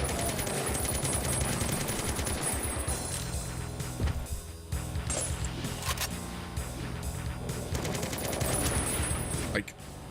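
Rapid automatic weapon fire in a Doom mod, dense bursts of machine-gun shots with short pauses, loud and close, mixed with game sounds and talk.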